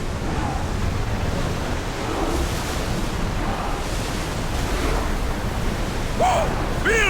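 Strong wind roars steadily over open sea aboard a ship in Assassin's Creed Odyssey, a continuous broad rush with washing surf, and a faint distant cry near the end.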